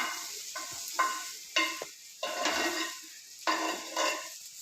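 Okra frying in a pan, stirred in several separate bursts of scraping and sizzle between short quiet gaps, close and moderately loud, with no talking.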